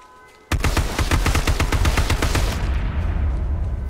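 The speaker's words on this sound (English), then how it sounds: "Watch out, he's using a pistol." Pistol gunfire in a video game: a rapid burst of a dozen or more sharp shots in quick succession, close and loud, followed by a lingering low rumble.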